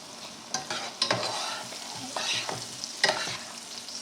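Mushrooms sauté in a hot pan, a close, continuous sizzle punctuated by a few sharp scrapes and tosses of a spatula.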